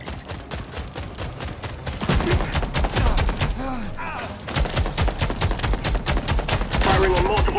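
Gunfire in The Expanse: Osiris Reborn, dense rapid automatic bursts rattling almost continuously at close range and loud throughout, with a short lull in the middle.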